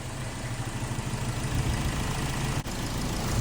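Car engine idling after a new radiator hose install during coolant bleeding, a steady low rumbling hum with faint vibration, close and continuous with a brief dropout near the end.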